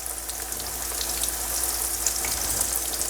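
Eggplant slices fry in a hot pan for an aubergine parmesan, a continuous close sizzle with faint crackling pops and no talking.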